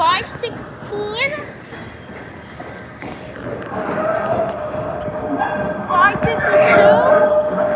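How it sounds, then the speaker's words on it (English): Broad Street Line subway cars pass at Fern Rock, loud and close, with rumbling wheels and sharp high-pitched wheel squeals rising and falling across the run, a steady tone in the background and brief voices mixed in. "we got Broad Street Line cars"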